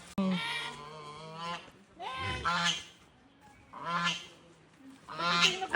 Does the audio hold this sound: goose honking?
yes